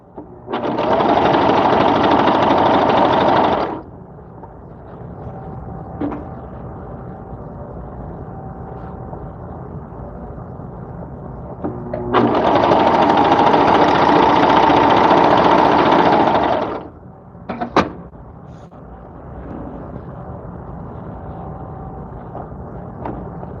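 Sewing machine stitching over a fabric seam, two loud sustained runs of close motor whir, each several seconds long, separated by a quieter background hum and a few brief clicks.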